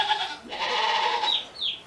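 A goat bleats in a long, wavering cry, loud and close, in an outdoor farm setting beside a duck pond.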